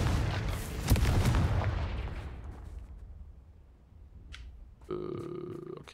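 The Confringo fire spell going off in the video game Hogwarts Legacy: a loud, close blast that rumbles and fades over a few seconds, then a short magical chime.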